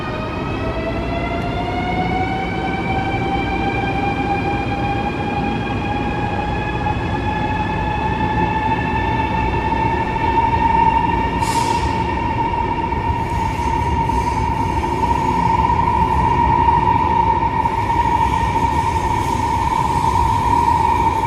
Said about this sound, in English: let's experience the scene of a Chinese high-speed train departing the station